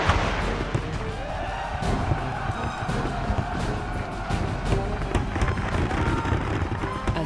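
Dense, continuous barrage of booming blasts and sharp cracks, loud and chaotic throughout: British cannon and gunfire in battle at Queenston Heights, War of 1812.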